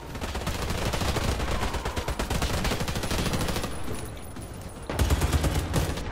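Rapid automatic gunfire from an AWP-type?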